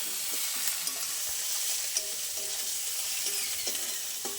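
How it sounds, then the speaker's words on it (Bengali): Ginger and garlic paste fries in a pan with a dense, continuous hiss and crackle, close and even throughout, broken by a few light scraping clicks of a spatula. "আদা রসুনও ভালো ভাজা হয়ে গেছে, কাঁচা গন্ধ চলে গেছে আমার।"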